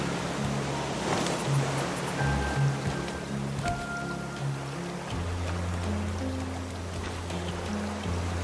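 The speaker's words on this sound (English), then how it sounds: "It's kind of already raining." Steady rain pouring in the survival game Raft, a dense continuous hiss of falling drops at even volume with faint low game tones underneath.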